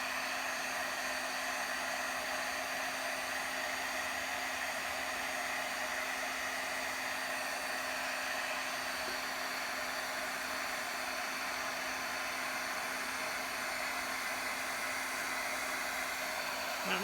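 An embossing heat gun blows hot air over a photo candle in one continuous, steady whoosh with a constant whine underneath. The sound is close and unbroken, with no voices.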